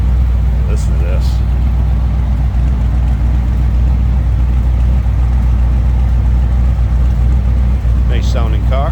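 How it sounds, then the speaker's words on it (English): A 1962 Chevrolet Impala SS two-door hardtop engine idles steadily after a cold start, a deep, even, loud rumble throughout with faint brief voices near the start and end. "Nice sounding car."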